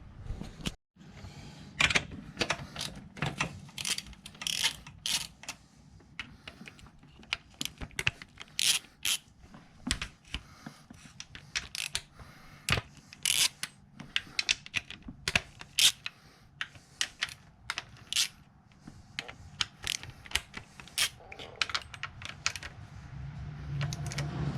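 A ratchet with a deep 10 mm socket loosens the valve cover bolts on an Audi A4 1.8T engine, giving rapid clicking bursts and scattered metallic ticks. The clicks come in short uneven runs, close and fairly quiet.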